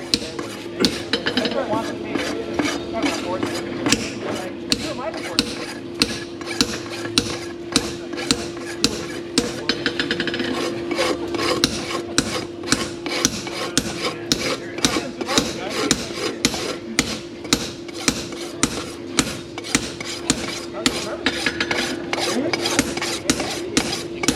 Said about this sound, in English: he's going to rasp to it